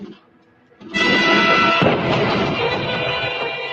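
Deadly gunfire in a Batman video game bursts in after a quiet moment, a loud, dense barrage of shots and booms that keeps going to the end.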